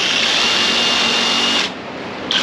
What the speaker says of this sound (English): And then I'm going to take my drill,